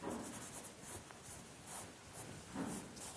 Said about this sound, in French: Avec l'estompe, j'adoucis. J'écrase un petit peu le pigment dans le papier.